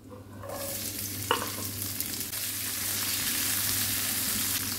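An onion cut into long slices for vegetable biryani drops into hot oil in a pan and bursts into a loud sizzle, then settles into a steady, close frying hiss with a clink of stirring.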